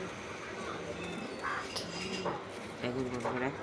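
A pigeon coos in repeated low, rounded calls at close range, with a steady layer of background noise and a few brief chirps from other birds.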